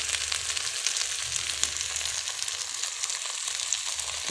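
Turmeric tipped into hot oil with pieces of goat meat for a pumpkin and mutton curry, giving a steady, close, even frying sizzle that carries on alone for the whole stretch.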